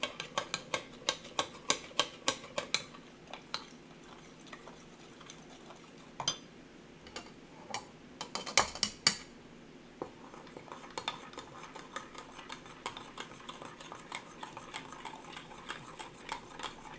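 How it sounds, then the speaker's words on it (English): A spoon stirs caramel latte and mocha latte popsicle mixtures, clinking against the containers in quick, regular taps, close and fairly quiet, with a few louder knocks midway. "So I'm going to stir them well."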